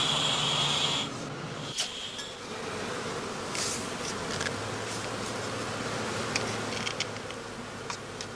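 Honey bees buzzing around straw skeps in an apiary during heather blossom, a soft continuous drone with occasional closer insects passing and faint clinks, fairly quiet overall.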